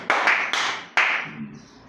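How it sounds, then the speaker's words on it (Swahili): A church congregation claps during a sermon, landing three sharp, loud bursts of hand claps that ring out and fade in the hall's echo. "Mpesi makofi mazuri."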